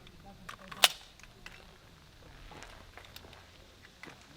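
A single sharp gunshot from an Arex Rex Zero 1 pistol cracks once near the start, followed by faint handling sounds and ambient noise outdoors.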